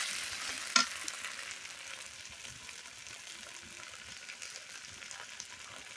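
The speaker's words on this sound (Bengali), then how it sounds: "এই আদা বাটাটা একটু ভাজা ভাজা করে নিতেছি" Ginger paste fries in a pan over a wood-fired clay stove, a soft, low sizzle with light stirring scrapes, a sharp knock near the start and otherwise fairly quiet and even.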